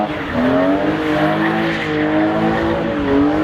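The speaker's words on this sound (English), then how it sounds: "It makes doing donuts really easy." A BMW E36 M3 spinning donuts with its rear-wheel-drive limited-slip rear end, the engine droning under a steady, loud tire squeal that wavers in pitch as it circles.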